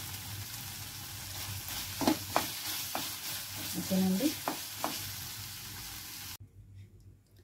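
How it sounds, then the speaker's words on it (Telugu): Cumin seeds sizzle and fry in a pan for a Rayalaseema peanut chutney, with stirring scrapes and crackles over a steady hiss; a brief spoken word comes near the end before the sound cuts to near silence. "దీంట్లోకి ఒక 1 టీ స్పూన్ జీలకర్ర వేసి వేయించుకుందాం."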